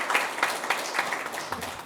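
Applause from a seminar audience welcoming introduced guests at a 2023 National Assembly suicide-prevention policy forum, a steady patter of many hands clapping at moderate level throughout, not especially close.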